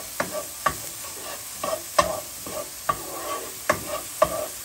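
Garlic fries in a pan for a Spanish-style sardine rice in tomato sauce, a spoon scraping and stirring in repeated sharp strokes over a steady close sizzle.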